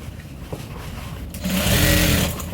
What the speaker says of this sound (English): I'll just sew it round to the other line.